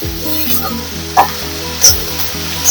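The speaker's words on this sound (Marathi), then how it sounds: "कांदा आपला छान असा लाल करायचा आहे, पण परतवायचं नाही, थोडं मंद गॅस करून भाजायचे आपल्याला व्यवस्थित" Onion roasting in a pan over a low flame, with a steady close sizzle and two sharper scrapes of stirring.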